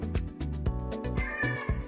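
A pet cat meows close by at home, a quick run of several insistent, whiny cries one after another with no talking over them.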